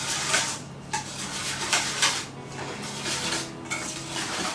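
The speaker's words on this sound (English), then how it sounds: "And by doing this with the whisk, it incorporates air, it breaks up all the lumps, all the remaining lumps from the sweet potato" A whisk scrapes and clinks steadily against a bowl while mashed roasted sweet potatoes are beaten with milk, a close, busy rattle with a few louder metallic taps.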